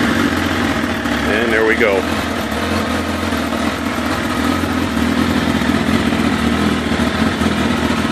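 An engine with a single original-style exhaust from 2002 is cranked with the starter button, whirs briefly and catches, then settles into a steady, loud idle rumble. Someone speaks briefly as it fires.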